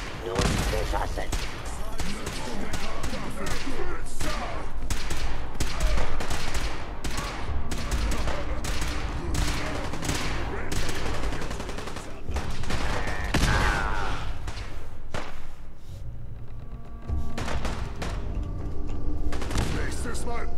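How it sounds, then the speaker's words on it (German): Dense gunfire in Fallout 4 during a fight with super mutants: rapid bursts of shots crackle continuously at close range, with booms between them, while someone speaks over the action. "Wird nun geschossen."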